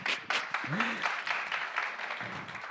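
An audience at a tech talk on building decentralised apps claps briefly and fairly faintly, with a few distinct claps and a voice speaking over them.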